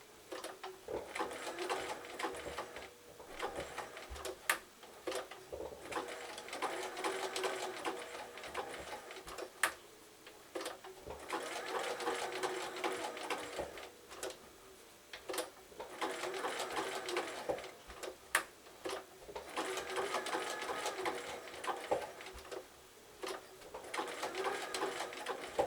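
A domestic sewing machine stitches zig-zag applique on birthday bunting around a tight curve, running in short bursts of a few stitches with brief stops between, its rapid mechanical whirr steady and close.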